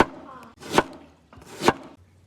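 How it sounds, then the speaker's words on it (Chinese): A knife chops scallion and ginger on a board in two distinct bursts of quick, close cuts, with quiet pauses between them. "切点葱姜。"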